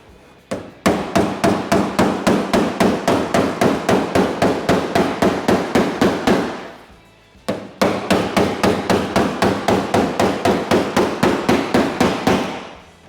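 A hammer strikes a car body panel beside a weld in a fast, even series of sharp metallic taps, with a short pause partway through before the rapid blows resume, close and clear.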